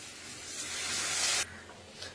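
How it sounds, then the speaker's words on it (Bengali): Water poured into a pan of simmering egg curry gives a broad, steady hissing rush that swells for about a second and a half and then cuts off sharply, leaving a quieter sizzle behind. "এবার দিয়ে দেবো জল।"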